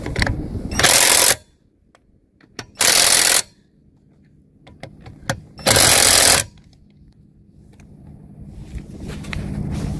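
An Avid Power 20V Max cordless impact wrench with a 1.5 Ah battery fires in three loud, separate hammering bursts, each about half a second long, with quiet pauses and small clicks and handling noises between them.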